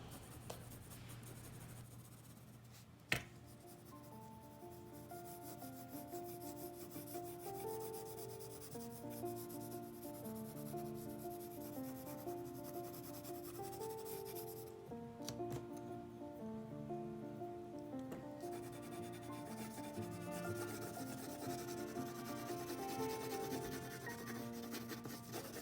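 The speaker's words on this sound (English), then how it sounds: "I'm going to come and use my HB pencil this time because it is a little lighter as well than the 6B" HB pencil shading on paper for a landscape drawing, a soft continuous scratchy rubbing that runs steadily and quietly throughout with one brief tap near the start.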